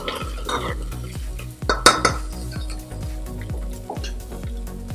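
Ingredients with chili and salt lightly fry in a pan for a Newari recipe, with a soft sizzle under repeated metallic taps and scrapes of a stirring spoon, one sharper clatter midway.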